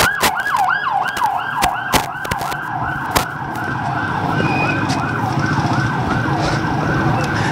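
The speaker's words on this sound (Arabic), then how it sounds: "الآن سيارات الإسعاف تهرع إلى مكان القصف هنا في هذه المدينة مدينة عزاز" Ambulance sirens wail in rapid repeating sweeps as they rush to a shelling site in the city of Azaz, loud and close, with sharp bangs early on and traffic rumbling underneath.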